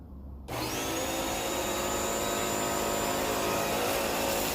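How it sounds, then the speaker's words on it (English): A Bissell Crosswave Pet Pro kicks on after a brief quiet start, then runs with a loud, steady motor whine and airflow roar while vacuuming crumbs from a floor under a dining table, sustained without pause. "Now let us try the vacuum capability of this machine."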